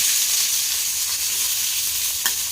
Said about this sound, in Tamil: இப்போ கருவேப்பிலை ஆனியன் ஆட் பண்ணிக்கலாம்.